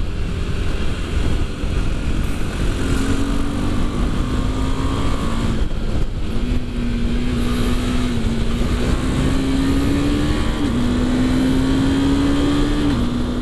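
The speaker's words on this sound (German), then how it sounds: "ich muss dem kleinen 373 Kubikmotor leider alles abverlangen, um hier dran zu bleiben" A KTM 390 Adventure's 373cc single-cylinder engine is held at high revs, its whining note climbing steadily through successive gears over a constant roar of wind and riding noise.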